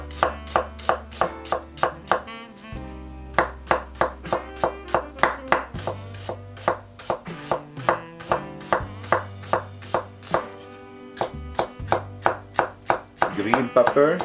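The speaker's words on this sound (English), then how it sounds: "I'm gonna begin with the red pepper, garlic, smash and fine chop." A knife chops red pepper and garlic on a cutting board in a home kitchen, making a close, crisp run of rapid, evenly spaced thuds that keeps going for over ten seconds over a faint musical background.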